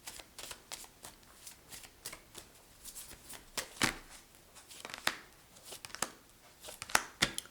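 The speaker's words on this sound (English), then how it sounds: "Let me pull some romance angel cards." Romance angel cards for a tarot reading are shuffled repeatedly up close, giving quick riffling bursts and soft slaps in an irregular rhythm.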